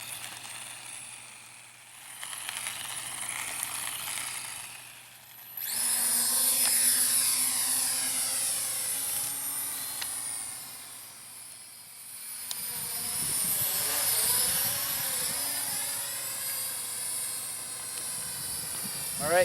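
A small RC flying car drone, a Syma X9 or JJRC H23, drives along the ground with a steady high-pitched whirring buzz from its motors that rises and falls as it speeds up and slows, fairly faint and continuous.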